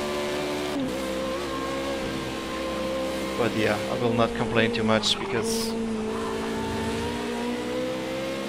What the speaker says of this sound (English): A shame they didn't really capture the sound of the car, because this car sounds amazing in real life.